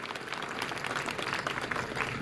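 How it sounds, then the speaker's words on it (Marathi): Steady crowd applause at an outdoor political rally in Akluj, greeting a ward candidate, moderately distant and continuous with no speech over it. "सगळ्यांनी टाळ्या वाजवून त्यांना शुभेच्छा द्याव्यात"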